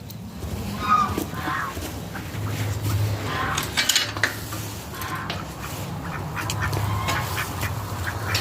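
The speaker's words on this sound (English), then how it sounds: "And more duckies." Ducklings at a hatchery, mallards among them, cheep and peep continuously nearby, many high calls overlapping, with faint clinks in the background.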